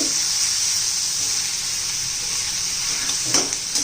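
Ground masala paste with coriander fries in hot oil for paneer masala, giving a steady, close hiss of sizzling with a brief clatter of stirring near the end.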